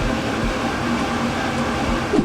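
Steady rumbling noise of a video game train accelerating, a Class 756 Flirt in SCR, with a low mechanical hum, continuous and fairly loud, swelling slightly near the end.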